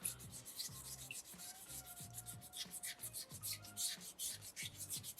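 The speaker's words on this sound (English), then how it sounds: "you should find the sanding stages that are in these kits quite effective, actually, at doing some shaping and polishing these rocks" A small soapstone loon carving is sanded by hand with rapid, rhythmic back-and-forth scratchy rubbing strokes, close and fairly quiet, with no voices.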